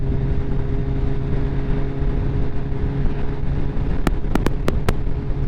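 A Kawasaki ZX14 motorcycle with a loud exhaust while riding, a steady close droning rumble mixed with wind rush, then a few sharp clicks near the end.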